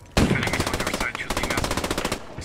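Loud, sustained bursts of automatic machine gun fire in the Post Scriptum video game, with rapid, evenly spaced shots in two long strings separated by a brief break, close and dominant.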